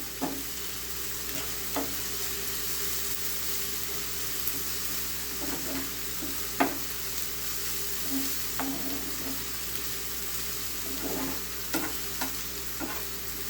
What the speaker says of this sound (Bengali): পেঁয়াজটাকে খুব বেশি ভাজা যাবে না